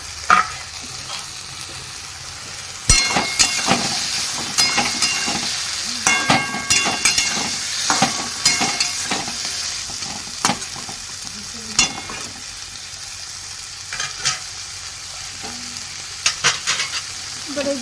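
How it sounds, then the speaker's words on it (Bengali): Tengra fish frying in a spiced masala for a Ganges tengra curry, with a steady hiss and repeated scraping stir strokes and clinks of a spatula against the pan, nearby and fairly loud, with no talk. "এখন এই মাছগুলো দিয়ে এর মধ্যে একটু সাঁতলে নেব"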